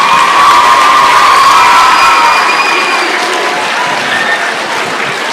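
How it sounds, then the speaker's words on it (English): A school assembly audience of middle schoolers applauds loudly and steadily, with cheering and shouts mixed into the dense, continuous clapping that fades slightly toward the end. "Give another round of applause."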